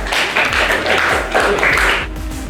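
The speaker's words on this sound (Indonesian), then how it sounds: "Tepuk tangan dong." A school class clapping hands in a classroom, a dense, continuous patter of many palms at steady loudness throughout, with a low hum underneath and no clear speech.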